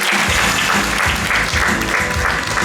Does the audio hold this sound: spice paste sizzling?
no